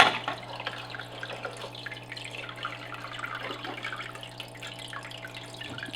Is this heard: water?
yes